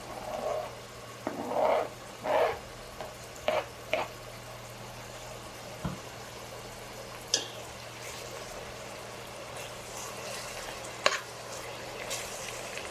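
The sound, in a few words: green peppers frying in a pan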